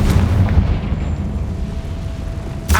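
A Confringo fire spell explodes in the Hogwarts Legacy video game with a deep booming blast that rumbles and decays, and a second burst strikes at the end.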